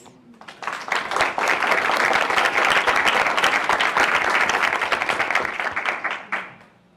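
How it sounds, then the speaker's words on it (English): A round of applause from a large audience at a school board meeting swells quickly, holds steady and loud for several seconds, then fades out. "yes, a round of applause."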